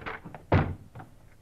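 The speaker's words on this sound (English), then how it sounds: "And then, in a quick movement, they rushed the door to Frank Hadley." A door is rushed in a radio-drama sound effect: several muffled wooden thumps and knocks land in quick succession, with one heavy central impact standing out clearly.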